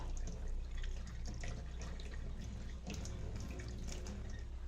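Hot water is poured over a new stone pot being seasoned, giving a steady, continuous splashing and trickling of water for several seconds, close and moderately loud.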